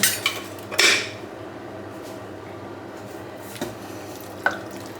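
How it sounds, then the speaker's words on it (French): Utensil stirring one-pot pasta with paprika, pepper and salt in a pot: a few clinks and scrapes against the pot over a low steady cooking hiss, close up, with no talk. "Voilà, je mélange."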